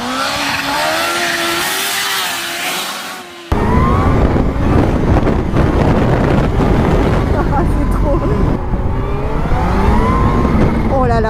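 A motorcycle accelerates hard with a rising, loud engine howl, cutting in after a brief quieter rev, then sustained roaring with wind buffeting close to the microphone.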